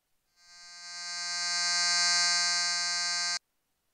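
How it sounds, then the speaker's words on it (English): Waldorf Blofeld synthesizer wavetable oscillator holding a single bright, buzzy harmonic tone that swells in over about a second, sustains steadily and stops abruptly, with no voices. "This is the sound of the wavetable."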